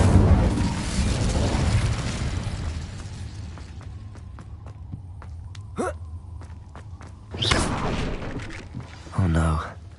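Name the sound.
Incendio fire spell in video game Hogwarts Legacy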